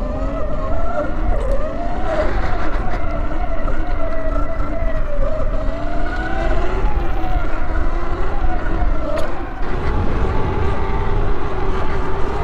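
A belt drive Sur Ron electric dirt bike pulls a wheelie, its motor whining loud and close with a rising and falling pitch and a surge near the end, over rushing wind noise.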